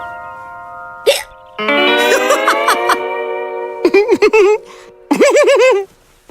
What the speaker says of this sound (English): You've still got the hiccups